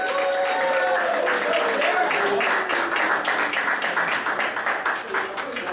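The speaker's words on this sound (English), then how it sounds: "Give her an applause, come on." Audience applause at an anime convention panel, a fairly loud burst of clapping from a crowd that fades slightly toward the end, with voices talking over it.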